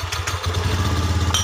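A Honda Beat ESP scooter with a misfiring fault fires up after an ECU reset, its small engine catching and then settling into a steady, close, rapidly pulsing idle with a faint click at the end.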